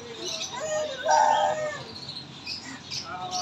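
Chicks and other birds at a bird market in Multan make bright, scattered chirps and tweets, with one louder burst of calls near the middle over a soft background hubbub.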